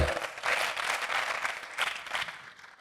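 Audience applause during a Christian sermon, clapping for God, a brief, fairly dense burst of many hands that swells and fades unevenly over a few seconds.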